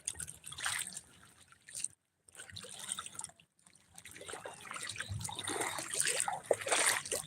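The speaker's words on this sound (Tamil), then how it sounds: "ஆற்றுல நடந்து போயிட்டு இருக்க மாதிரி இருக்கு" Quiet, irregular sloshing and splashing of footsteps wading across a river, with two brief silent breaks and the splashing growing busier toward the end.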